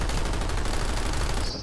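Rapid, sustained automatic gunfire from a night battle video game rattles without pause, loud and close, with no voices over it.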